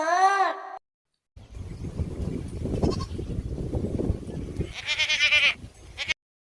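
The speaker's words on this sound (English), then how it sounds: "G for goat." A goat bleats in short, wavering cries at the start and again near the end, with a noisy stretch of rustling and low babble between them.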